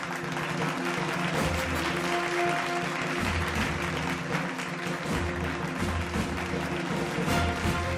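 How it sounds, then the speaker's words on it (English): A crowd applauds steadily and loudly throughout, dense clapping from a large audience. "Let's have a round of applause, ladies and gentlemen."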